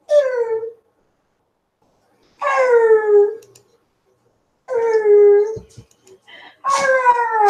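A dog howls and whimpers in four drawn-out, wavering bursts separated by short silences, close by and fairly loud.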